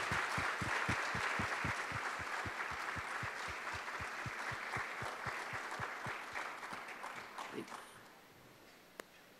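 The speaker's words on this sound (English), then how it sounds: "Shall we clap our hands?" At a Sunday church service in Pune, the congregation claps hands in a fast, regular rhythm over a wash of scattered applause, gradually thinning and fading, with one sharp clap at the end.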